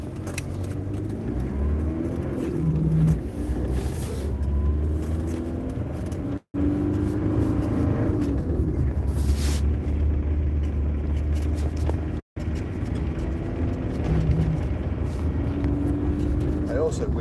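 A ute's engine drones and rumbles steadily from inside the cab, with rattles and bumps over rough ground while a person talks over it.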